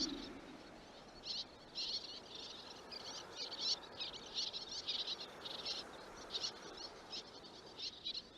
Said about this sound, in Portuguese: as destemidas andorinhas começam a atacar as gaivotas